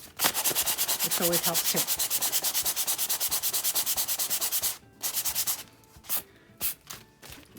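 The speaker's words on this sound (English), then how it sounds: "I'll just find my sandpaper and sand it down." Sandpaper rubs rapidly back and forth across an old book, making rhythmic, close scratchy strokes that pause and resume in short bursts, with a brief spoken remark over the sanding.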